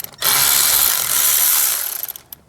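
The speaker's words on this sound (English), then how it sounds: "So now let's remove the caliper assembly bolts." A ratchet turning the caliper assembly bolts on a Mercedes-Benz S550 front brake, a loud, close burst of dense clicking that holds steady for about two seconds, then breaks into a few separate clicks.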